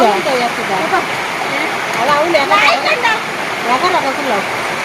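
A village waterfall, its flow slightly reduced after two days of less rain, gives a steady rushing water roar throughout while a person talks over it close by.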